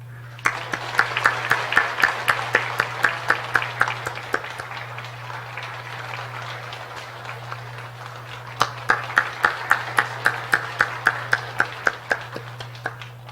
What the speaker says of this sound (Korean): 위로의 박수를 여러분 함께 좀 보내주시기 바랍니다